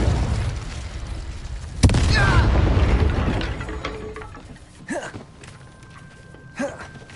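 A Confringo blasting spell goes off in a Harry Potter video game, a sharp bang near 1.8 s followed by a rumbling burst that fades, with a couple of smaller pops later.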